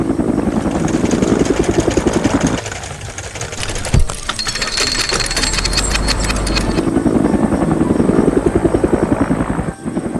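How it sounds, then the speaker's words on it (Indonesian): A red animated helicopter arriving to lift a fossil find, with a loud, steady rotor chop and engine whine throughout, briefly dipping in the middle before returning close and strong. "Sebuah helikopter merah datang untuk membantu mengangkat temuan bersejarah ini."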